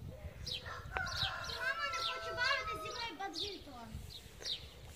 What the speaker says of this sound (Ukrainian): Пташки співають, так класно.